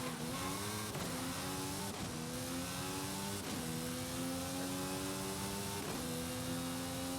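Race car engine in Forza Horizon 5 at Le Mans, droning loud and steady, with rising harmonic sweeps as it climbs through the gears and several quick shift breaks, no talk over it.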